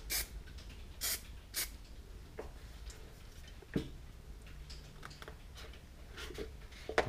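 An aerosol spray paint can puffs white paint onto a canvas while a sky is painted, giving short, faint hissing bursts, a few spaced pulses at first and then quieter scattered hisses and small taps.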